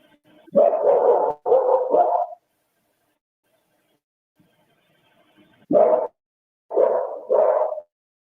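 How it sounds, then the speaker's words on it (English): A dog barks outdoors at night on a home security camera recording, sounding as two quick pairs of loud, clipped barks separated by several seconds of silence, with no talk. "This dog is not Murphy."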